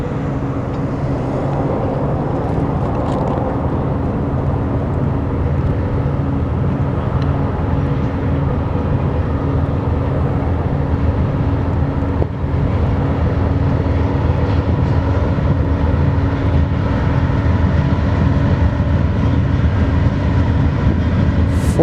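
BNSF Railway locomotive 4028 leads an eastbound freight train past Trent Ave. in Spokane, WA, its low steady diesel rumble and rolling wagon noise continuous and loud throughout, with no talk.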